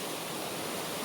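The small Vajar waterfall roars in a steady, broadband rush of falling water, close and constant, with no voices or other sounds breaking through.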